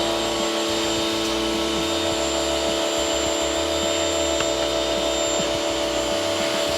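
A Kärcher pressure washer with a jet nozzle blasts dirt off a gutter, producing a constant loud hissing spray over a droning motor hum.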